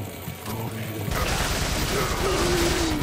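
Rapid automatic fire from a TMP submachine gun in Resident Evil 4, a dense mechanical rattle that kicks in after about a second and keeps going over game ambience, with an indistinct voice mixed in.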